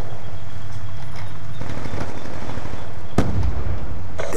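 A Call of Duty Zombies video game, with a single loud explosion bursting out late over busy in-game background noise.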